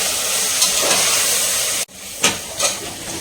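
Masala with tomatoes sautéing in a hot pan for a meat curry, a steady close sizzle and stir that cuts out briefly, then returns with a few scraping stirs.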